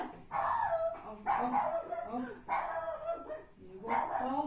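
A puppy gives several short, close barks and yips in a quiet indoor setting, in four bursts spaced about a second apart.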